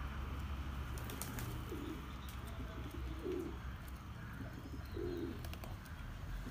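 Pigeons coo softly, with several low, rolling calls spaced a second or two apart under a constant outdoor hum and faint chirps.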